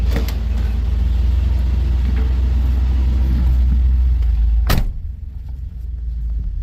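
Interior drone of a 1977 Ford Mustang on a test drive: steady low rumble and road noise, then a sharp brief knock near the end before a quieter stretch, with no talk.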